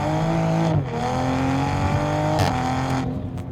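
A 490-horsepower full bolt-on A90 Toyota Supra accelerates hard and loud, its engine note climbing through two quick gear shifts with brief dips in between, and no voices.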